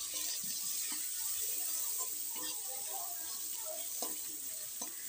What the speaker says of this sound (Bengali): এবার কড়ার মধ্যে যে তেলটা আছে ওই তেলের মধ্যেই আমি পেঁয়াজ দিয়ে দিচ্ছি গ্রেট করে।